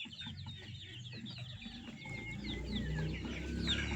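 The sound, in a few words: roosters and hens clucking on a farm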